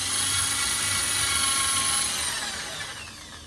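A power drill whines loudly at high speed while boring a hole for a curtain rod, then winds down and fades over a few seconds, with no voices.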